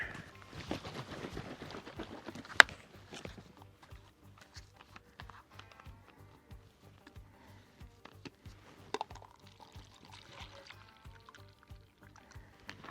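Eight ounces of truck bedliner activator pour into a bottle with a faint, close liquid trickle, joined by light plastic clicks and small knocks in an otherwise quiet space.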